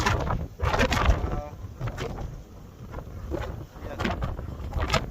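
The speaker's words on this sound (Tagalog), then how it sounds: "Napakalakas ang storm ngayon." Strong winter storm wind buffets the microphone in heavy, gusting rushes, loud and close, while a person talks over it.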